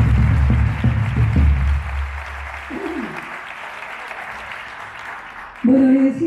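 An audience at a cultural-week concert applauding the keyboard's owner, with dense clapping over the first two seconds that fades out, followed by a brief voice.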